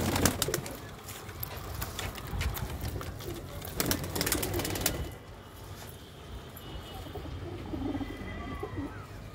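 Golden pigeons at a bird sale in Ludhiana coo softly amid a busy background of bird sounds and some flapping wings, moderately near and continuous.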